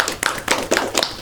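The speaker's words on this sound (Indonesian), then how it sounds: "Beri tepuk tangan untuk kelompok 2 kita" Classroom applause for a student group, five or six short bursts of hand claps, close and uneven, with no talk.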